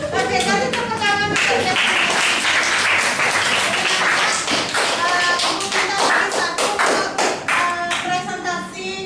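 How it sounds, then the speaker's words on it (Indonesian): A classroom of students claps together, quick crisp handclaps building into a full round that continues for several seconds while voices talk and cheer over it, thinning out toward the end. "kasih tepuk tangan"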